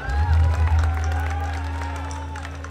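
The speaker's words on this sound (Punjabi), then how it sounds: "ਫਿਲਮ ਵਾਸਤੇ ਖੁੱਲ੍ਹ ਕੇ ਤਾੜੀਆਂ ਲਾ ਦਿਓ ਪਹਿਲਾਂ ਸਾਰੇ ਜਾਣੇ" Audience at a promotional event for the Punjabi film Cheta Singh in VR Mall Mohali claps and cheers loudly in a brief burst that fades into a steady crowd murmur, with a voice speaking over a PA system throughout.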